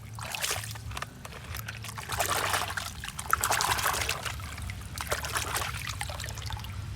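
Water poured and trickling over a toy truck during a cleaning play session, a continuous splashing dribble that swells and eases over several seconds, close to the microphone.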